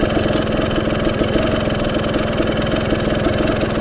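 A 2024 Beta 300 RR Race Edition two-stroke dirt bike engine running steadily on a single-track trail ride, a loud, close, continuous buzzing drone with a rapid even pulse and no voices.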